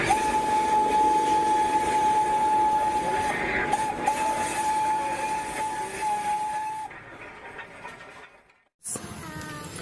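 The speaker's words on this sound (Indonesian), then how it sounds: "Widih, ada kereta api Thomas." A Thomas toy train runs with a steady mechanical whir and a sustained high whistle-like tone that stops abruptly, followed by a short silence and then a return of motor noise.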